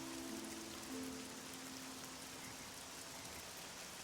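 Steady soft rain patters continuously in the modded video game Oblivion, with a faint low tonal hum underneath.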